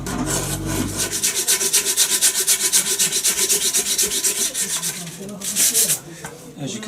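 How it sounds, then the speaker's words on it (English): Hand rasp filing the wooden body of a bass guitar clamped in a vise, a loud close rhythmic scraping with steady back-and-forth strokes running continuously, no voice. "I set it up in a vise, and I get various rasps,"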